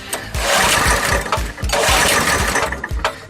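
A small engine on an abandoned KT196 go kart, choked and flooded with carburetor cleaner, cranks with rhythmic low chugs and then catches in loud sputtering bursts close up, with no talking.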